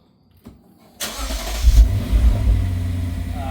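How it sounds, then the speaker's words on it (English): A 2023 Lexus IS 500 F Sport with its stock exhaust cold-starts with a click and a sharp crank, then catches into a loud, deep rev that settles to a rumbling high idle. "This will be the last cold start on the stock exhaust of my 2023 IS 500 F Sport."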